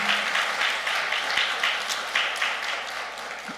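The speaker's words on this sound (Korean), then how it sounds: "우리 박수로 좀 한번" A Korean church congregation gives warm applause for its choir, a moderate room full of clapping in gentle surging waves that fade toward the end.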